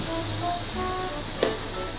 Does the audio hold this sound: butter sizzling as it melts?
yes